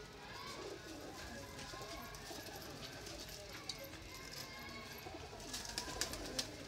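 Pigeons in a breeder's loft coo and rustle in a steady, busy wash of bird sound, with soft flutters and a few sharper calls toward the end.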